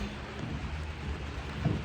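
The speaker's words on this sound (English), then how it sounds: "Freezing rain." Freezing rain falling outside on a winter day, a steady, soft broadband hiss of precipitation with a faint low rumble underneath, continuous and fairly quiet with no voices.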